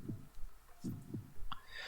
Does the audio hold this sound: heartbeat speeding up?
yes